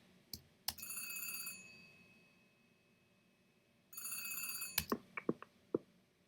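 A theatrical phone ring cue from QLab sounds as two bursts of a bright electronic bell ring with a pause between, followed by a few soft clicks.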